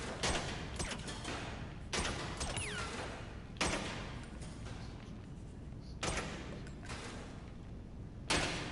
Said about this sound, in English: you can do a pistol challenge, right? So let's do that quickly.